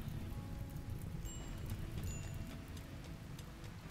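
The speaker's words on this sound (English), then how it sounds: "Oh, there's a rain. There's the rain." Steady rain in the colony-building game RimWorld, a dense continuous patter with a few soft pings, moderate in level and unbroken throughout with no speech.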